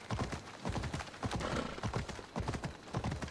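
A horse in Assassin's Creed Odyssey gallops in quick rhythmic hoofbeats, close and loud, with a faint whinny.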